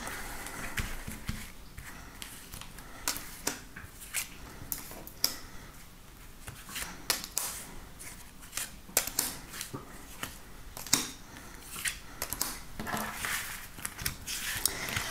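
Tarot cards shuffled and drawn up close, a quiet run of rapid papery flicks and soft slaps in irregular bursts, with no talking.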